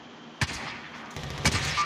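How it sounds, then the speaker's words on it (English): Gunfire in the video game Call of Duty Warzone, two faint, distant shots about a second apart over a quiet background. "We'd have some gunshots below us"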